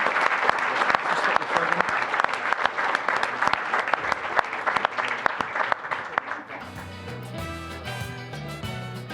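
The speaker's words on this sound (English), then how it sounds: "please, just one last round of applause" Audience applause at an awards dinner for the Nations Cup 2019, a dense, loud round of clapping that carries on for several seconds before fading as music with a steady beat takes over.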